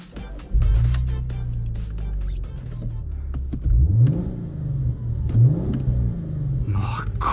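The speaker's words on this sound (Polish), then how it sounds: "No i dobra, to odpalamy silnik." A 2005 Audi A4 3.2 FSI quattro engine cranks and starts, then settles into a deep idle broken by several sharp throttle blips that rise and fall; faint cabin sounds follow near the end.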